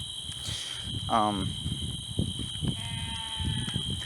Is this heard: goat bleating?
yes